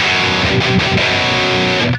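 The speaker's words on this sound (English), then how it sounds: "stacking those two drives on top of each other works out pretty good" Loud electric guitar through two stacked distortion drives chugs a few heavy, palm-muted notes in a short burst that cuts off sharply at the end.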